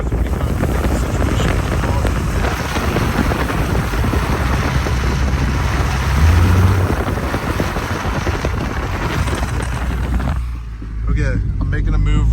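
A two-wheel-drive Jeep WJ pushes through a snow storm with a loud, constant engine and road roar mixed with wind buffeting, dropping off sharply near the end as a person talks.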